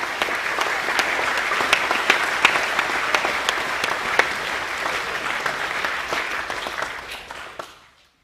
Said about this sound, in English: Please give a round of applause for the Year 10 Academic A winners.